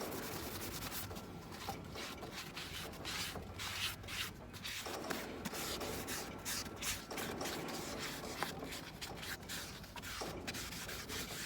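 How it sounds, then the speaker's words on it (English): A 2021 Toyota Supra wheel is scuffed by hand before painting, making a continuous soft rubbing and scratching noise, quiet and unbroken throughout. "You're just scuffing it up a bit."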